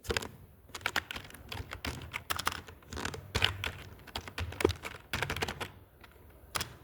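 Rapid typing on a computer keyboard, close and fairly quiet, with irregular bursts of key clicks and short pauses and no voice.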